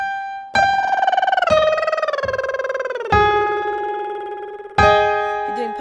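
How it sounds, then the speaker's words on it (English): Lip trills on a voice exercise sliding through a major 7 chord pattern as a vocal cool-down, heard as several buzzy sustained pitched tones that step and glide downward, each entry starting with a sharp onset, solo with no talking. "So if you are doing lip trills, it's going to sound like this."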